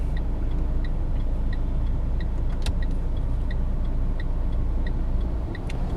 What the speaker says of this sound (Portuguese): Pé no freio, acelerador até o fundo.